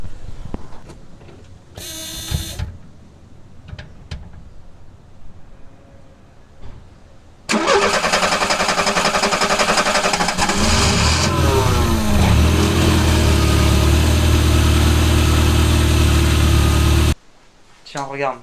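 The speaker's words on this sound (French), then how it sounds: "Ok, donc là, moi, je vais faire un démarrage. Je vais vous laisser apprécier ce démarrage." After some quiet handling sounds, a Renault R5 Super 5 engine cranks and fires, then settles into a loud, steady idle that continues for about ten seconds before cutting off abruptly.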